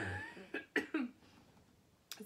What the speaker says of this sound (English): It's an old cough.